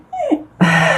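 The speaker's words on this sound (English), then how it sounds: "And my dog agrees with you." A single dog gives a short whimper that slides downward, then a louder, longer whine-like yelp follows, close and alone without speech.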